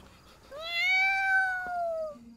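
A single long, drawn-out cat meow, clear and close, rising then slowly falling before fading out.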